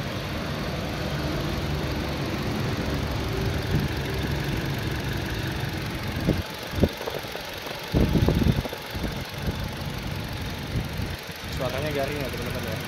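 A 2008 Toyota Innova G Euro manual diesel idles close by with a steady low clattering rumble and faint knock, while a voice talks over it and a few brief bumps and knocks break in near the end.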